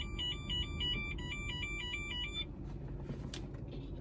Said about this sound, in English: I think it's picking up a laser signal from the car.